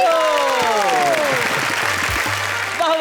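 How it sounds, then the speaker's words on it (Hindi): Audience applause at a Hindi kavi sammelan poetry event, a steady wash of clapping that fills the clip, with a sustained voice or musical tone gliding over it. "तालियां हो तो ऐसी हो"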